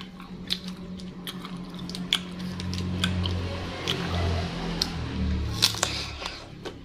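Crunchy bites and wet chewing of a jumbo gajah mango rujak dressed with terasi palm-sugar sambal, close and fairly loud, with sharp crunches recurring every second or so over a steady squishy chewing bed, no talking.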